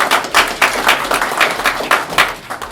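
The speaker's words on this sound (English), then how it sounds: "let's please give Mr. Gibina another round of applause" An audience at a mentorship program graduation ceremony claps in uneven, rhythmic bursts, a moderately loud round of applause from a modest crowd nearby with no talking over it.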